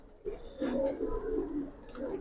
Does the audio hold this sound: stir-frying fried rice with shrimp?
no